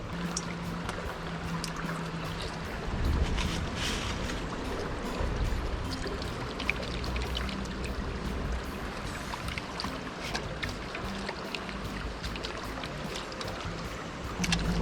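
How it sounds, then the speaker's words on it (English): Spring water poured outdoors over a fish in Jamaica to rinse it before steaming, a steady splashing pour that runs close and continuous for the whole stretch. "I still give it a final wash with, you know, spring water."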